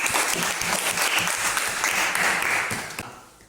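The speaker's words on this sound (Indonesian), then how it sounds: "Bagus sekali, tepuk tangan." A classroom of students claps together for a few seconds, a dense patter of many hands that holds steady and then fades out toward the end.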